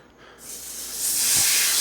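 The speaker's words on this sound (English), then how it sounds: "when you hear that sizzle, you know it's good." A steak about 3/4 inch thick hits butter in a cast iron skillet, and the sizzle swells from quiet to a loud, steady hiss within a couple of seconds, with no voices over it.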